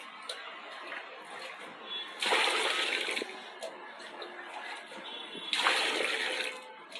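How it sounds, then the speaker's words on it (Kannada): Water poured for washing up outdoors, coming as two louder gushing splashes over a steady background trickle and hiss, fairly close. "ನೀರು ಹಾಕ್ಕೊತೀನಿ."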